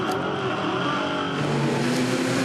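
V8 touring cars from the Touring Car Masters field racing on a dry Sydney circuit, a steady engine drone at moderate distance with a slight rising rev, no talk over it.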